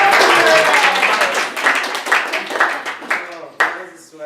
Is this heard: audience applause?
yes